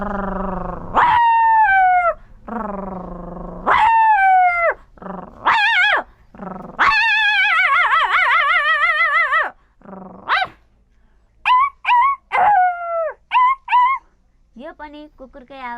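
A human voice imitating a puppy, giving a string of high yelping barks, whines and short yips in irregular bursts with pauses between, close and loud.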